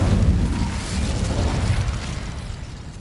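A fire spell cast in the video game Hogwarts Legacy gives a loud, sustained roaring whoosh with a low rumble that fades over about three seconds.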